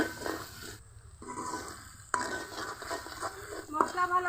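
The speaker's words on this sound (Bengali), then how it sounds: "লবণ, হলুদের গুঁড়া, মরিচের গুঁড়া, আরও কিছুক্ষণ কষিয়ে নিব।" Salt, turmeric and chili powder fry with spices in a pan for chicken cooked with mung dal: quiet scraping and stirring clatter over a low sizzle, with a brief lull before the stirring resumes.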